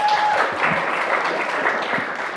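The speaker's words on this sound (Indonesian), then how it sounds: "Sekali lagi beri tepuk tangan untuk kita semua." An audience at a short-movie competition event breaks into lively applause, a thick wash of clapping that continues steadily throughout.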